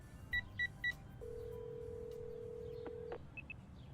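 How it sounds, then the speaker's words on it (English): In the game ACE Academy, a phone dials a call: three quick keypad beeps, then a long steady ringing tone, followed by two faint short beeps. "I find it in my phone and give her a call."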